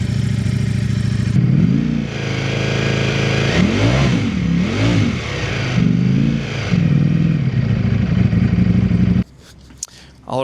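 A rebuilt Ducati Streetfighter V4 engine, repaired after a crash, idles close by and is blipped several times, rising and falling in quick rev swells, before it cuts out near the end.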